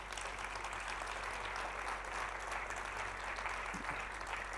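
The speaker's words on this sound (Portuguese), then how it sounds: "Aplauda o Senhor mais uma vez." A church congregation claps together in a sustained, even burst of applause filling the room, with a low hum underneath.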